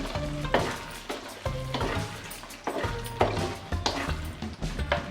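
Vangibath gojju being stirred as it fries in oil, with a steady sizzle and repeated scraping strokes of the spoon through the pan, close and fairly loud, no voices.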